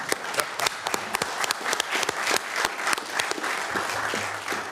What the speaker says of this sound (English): So I think we owe them a round of applause.